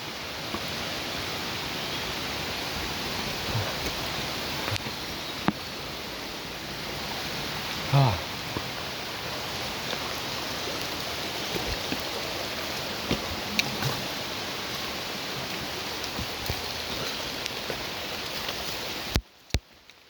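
A forest stream swollen by recent rain flows on a hike at Na Haeo, its steady, even rushing continuing without a break for the whole stretch, with only a few faint knocks and shuffles on top.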